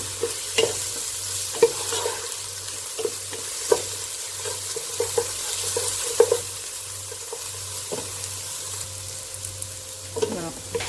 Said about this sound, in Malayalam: ഇനി നമുക്കിതൊന്ന് വഴറ്റാം.